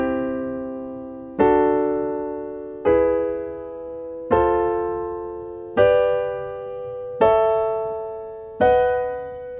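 Piano playing a slow series of major chords on the white keys, seven full struck chords about 1.4 seconds apart, each ringing and decaying before the next, close and clear with no talking.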